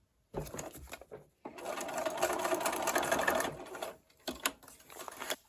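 A sewing machine stitches a paper-pieced drum quilt block in two bursts, a short run and then a long steady rapid whir, close and fairly loud, with a brief final stitch burst after a pause.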